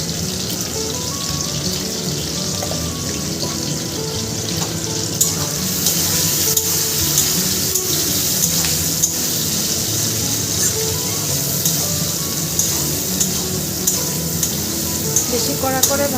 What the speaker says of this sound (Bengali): বেশি কড়া করে ভাজবো না, একটু হালকা হালকা করে ভেজে নামিয়ে নেব।